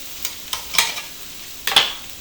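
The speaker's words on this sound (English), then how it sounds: "That sizzle's gonna help me deglaze." Bean and ham soup sizzles in a hot pot during deglazing, with sharp bursts of hiss and crackle flaring up in quick clusters at moderate volume, close by and without talk.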